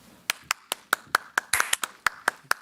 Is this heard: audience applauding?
yes